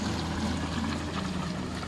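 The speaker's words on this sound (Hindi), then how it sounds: "यहाँ पर पानी चल रहा है। देखिए आवाज सुनिए पहले आप।" Irrigation water runs through a channel beside a wheat field, a steady rushing flow that stays continuous and fairly loud throughout, with no voices over it.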